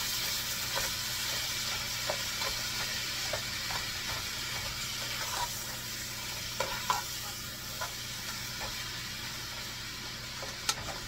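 Meat for chili browns in a pan as it is broken apart, a steady moderate sizzle with small clicks of a utensil scraping and stirring, no speech.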